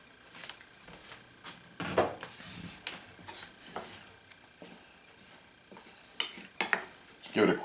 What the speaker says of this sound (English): Just give it a quick stir.